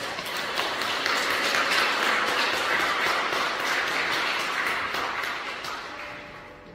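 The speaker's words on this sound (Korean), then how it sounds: "우리 한경환 담임 목사님 나오실 때 우리 박수로 한번 해주시죠" A church congregation at a Korean church pastor's installation service applauds as the new pastor comes forward, a steady wash of many hands clapping together that gradually thins out toward the end.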